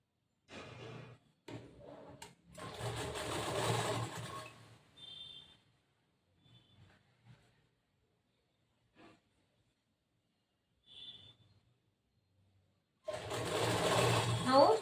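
A sewing machine stitches the lining of a boat neck blouse in several short whirring bursts, pauses with only faint handling sounds, then starts up again in a longer, louder run near the end.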